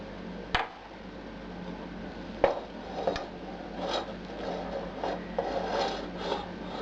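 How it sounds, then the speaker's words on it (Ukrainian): Finely julienned sliced lungs being tipped into a pot for a salad, heard as a few sharp clacks and knocks followed by soft rustling scrapes, close and unaccompanied by speech. "Висипаю легені в кастрюльку."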